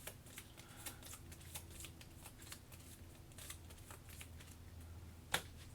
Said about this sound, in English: So we shuffle these up.